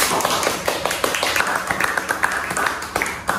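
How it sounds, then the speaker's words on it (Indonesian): A small audience claps steadily to welcome a guest onto a podcast set, a dense patter of hand claps lasting a few seconds with a voice mixed in underneath. "Tepuk tangannya"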